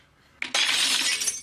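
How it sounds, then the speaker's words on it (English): A vase knocked off a table shatters in a sudden loud crash of breaking glass, a brief knock followed by a sustained bright spray of shards lasting about a second, with no talking. "I knocked the vase that was on this table over."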